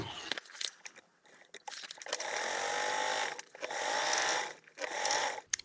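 A sewing machine stitches a seam along the long edge of a large foldable tote bag, its motor whirring in sustained runs broken by brief stops and handling noises, close and fairly loud.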